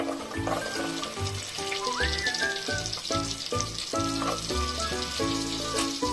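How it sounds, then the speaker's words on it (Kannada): Garlic sizzles in a spoonful of butter in a pan, a continuous close crackling fry with small pops, heard alone without talk. "ಒಂದು ಸ್ಪೂನ್ ಬಟರ್ ಹಾಕ್ಕೊತಿದ್ದೀನಿ ಇವಾಗ ನಾನು ಗಾರ್ಲಿಕ್ ಹಾಕೊಳ್ತಿದ್ದೀನಿ"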